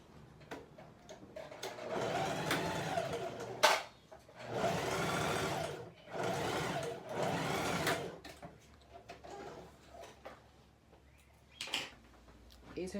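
Sewing machine topstitching a blouse, running in several loud bursts of a few seconds each with brief stops between, then quieter clicks and handling as the stitching ends.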